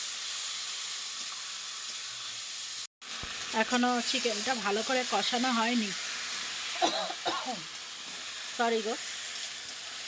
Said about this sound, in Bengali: এখনও চিকেনটা ভালো করে কষানো হয়নি